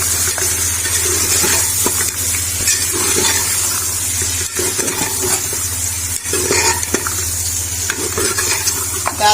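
Mutton fried in hot oil for a malai korma makes a loud, steady sizzle with a low hum underneath, broken by repeated scraping and clacking of a utensil stirring the pan, and nobody talks.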